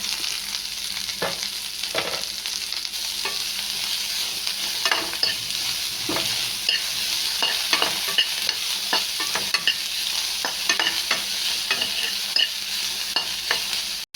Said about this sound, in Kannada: ಸ್ವಲ್ಪ ಎಣ್ಣೆ ಹಾಕಿ ಹುರಿಬೇಕು. ಈ ಥರ ಹುರಿದು ಮಾಡಬೇಕು.